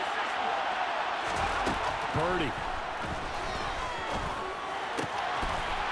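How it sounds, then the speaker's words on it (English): Stadium crowd noise in Madden NFL 23 swells as a steady roar for a big third down, with scattered sharp thuds and a commentator speaking over it. "The crowd getting into it as we come up on a big third down."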